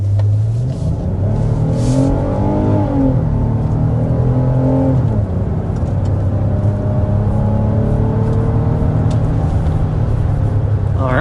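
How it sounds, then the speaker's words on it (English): A V6 Hyundai Palisade three-row SUV accelerates hard to 60 mph, its engine note rising steadily and loud, heard close with a continuous droning roar and no talking. "there's an acceleration to 60 miles per hour with the Palisade. This, of course, is the V6 Palisade"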